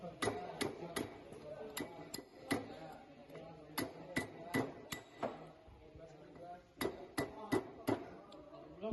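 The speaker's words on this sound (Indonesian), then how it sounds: "menggunakan palu karet." A rubber mallet knocks a drive pinion flange loose from a differential, a series of dull, close thuds in irregular bursts of two or three, with quiet pauses between.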